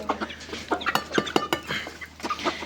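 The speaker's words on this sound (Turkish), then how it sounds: "Burada bayağı horoz var." Farmyard fowl with many roosters present give a quick series of clucks and short calls close by, irregular and fairly soft, with no voices over them.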